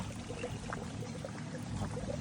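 A small waterfall pours into a koi pond, giving a soft, steady trickling rush that stays low and even throughout with no voices.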